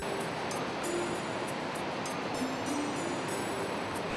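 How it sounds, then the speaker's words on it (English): Steady broadband rush of the Marsyangdi River on an Annapurna trek in Nepal, a continuous even roar of flowing water with no pauses and no voices. "This whole area with Marsyangdi River making noise with melody"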